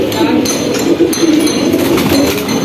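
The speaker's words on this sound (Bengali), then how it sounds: "এটা আমার এখানে বিট করা একটা কবুতর দেশি কবুতর" A local desi pigeon kept at a home loft coos in low, repeated throaty pulses, close and fairly loud against a hissy background.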